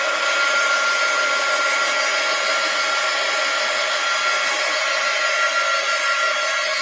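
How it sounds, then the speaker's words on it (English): Steady, loud airy roar of a heat gun blowing hot air over wet paint on an art surface, continuous and close for the whole stretch with no talk. "Let's hit these with the heat gun again."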